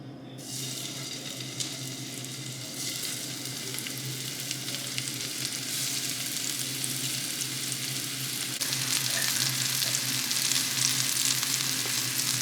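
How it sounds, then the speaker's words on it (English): Tuna searing in olive oil in a hot pan, a loud continuous sizzle and crackle that holds steady throughout with no voices. "I've got some olive oil in a hot pan, and we're going to put our tuna in there."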